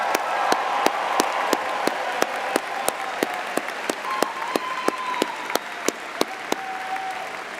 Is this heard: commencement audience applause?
yes